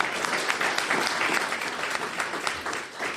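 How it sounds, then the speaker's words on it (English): Audience applauding to welcome activist Dolores Huerta on stage, a dense, steady clatter of many hands clapping that holds for the whole stretch and eases slightly at the end. "Please, ladies and gentlemen, welcome her with a warm applause, Dolores Huerta."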